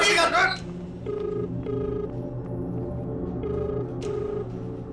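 A telephone rings out on an unanswered call, its repeating electronic tone pulsing steadily at moderate volume over a low background hum.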